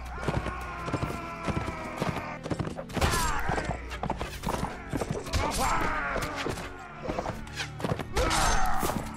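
Horse hooves thudding and clip-clopping in Mount & Blade Warband, a rapid, uneven stream of hoofbeats with clanks and battle noise, while a voice talks over them.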